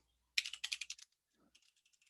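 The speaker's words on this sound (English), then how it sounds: "So we're going to type in there title slide" Quick bursts of typing on a computer keyboard while entering slide text in PowerPoint, a fast run of close crisp keystrokes followed by a few lighter, sparser taps in a quiet room.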